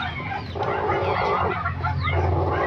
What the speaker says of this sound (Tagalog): kung meron kayong manok na ganito guys